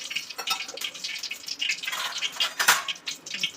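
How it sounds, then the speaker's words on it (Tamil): Cooking oil poured into a kadai for crab thokku, a close, light stream of dripping and splashing liquid with small irregular patters throughout. "இப்போ எண்ணெய் ஊற்றிக்கலாம் கடாயில்"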